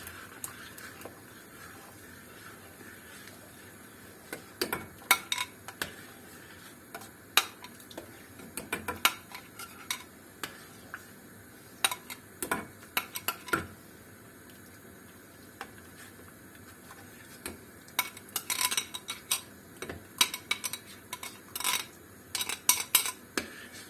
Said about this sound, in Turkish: sürekli çorbamı karıştırıyorum